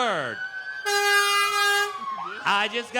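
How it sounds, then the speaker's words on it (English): Loud horn blasts and a wailing siren from emergency vehicles at a Christmas parade sound in short bursts, pitch sliding up and down, with a brief pause between them. "Those are not sirens you want to hear"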